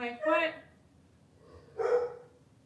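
Dogs barking indoors, two separate sharp bark bursts about a second and a half apart, moderately loud and close, with quiet room noise between.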